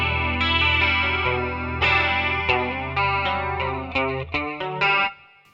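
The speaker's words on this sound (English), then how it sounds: "This is a Boss CE1, a chorus ensemble," Chorus ensemble effect modeled on a Boss CE-1, running on a NUX MG-300 multi-effects unit: a shimmering, warbling guitar playing sustained chords and plucked notes, loud and alone, with the final strum fading out.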